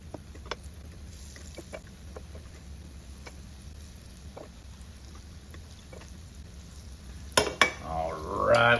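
Keto donuts frying in a pan give a low, steady sizzle with scattered light clicks of utensils, then a louder scrape and clatter of cookware near the end.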